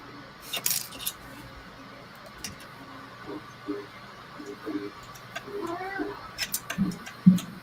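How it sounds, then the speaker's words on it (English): A small kitten mews a few times in a quiet indoor room during a 3D printer belt kit build, thin faint cries among scattered light clinks and handling noises. "Kitten meowing over there."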